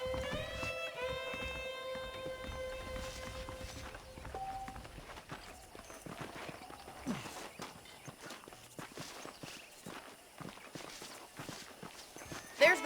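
Horse hooves clip-clop in the Red Dead Redemption video game, a run of repeated, fairly close hoof strikes that continue for several seconds, with a voice and a sustained musical tone heard early on.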